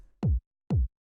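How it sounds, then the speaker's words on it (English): Punchy 909-style kick drum from a minimal house track, struck twice about half a second apart, each hit short and deep with a sharp click on top, loud and dry over silence. "you can see it's just this punchy, sort of like 909 style kick"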